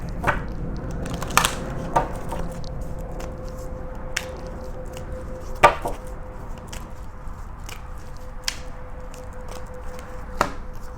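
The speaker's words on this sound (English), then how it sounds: "Let's do one more shuffle." Tarot cards being shuffled, a soft, irregular run of papery taps and riffling clicks with sharper snaps every second or so over a low steady background.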